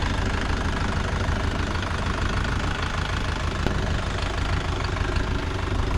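A Mahindra Yuvo Tech Plus 585 4WD tractor engine running steadily, a dense, loud, continuous diesel rumble with a knocking texture, close by and unbroken throughout.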